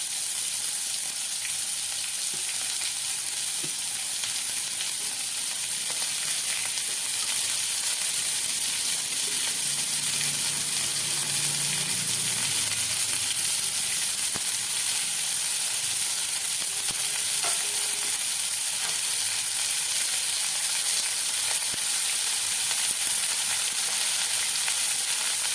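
Chopped large onions sautéing in oil in a pan for green peas masala, a steady hissing sizzle held for about half a minute with occasional faint stirring clinks and no talking.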